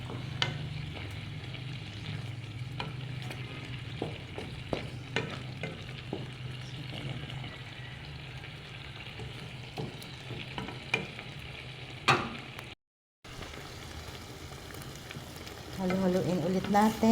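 Sinantol (cotton fruit) being stirred while cooking in coconut milk, soft scraping and stirring strokes over a gentle simmering sizzle, close and quiet, with a brief gap near the end.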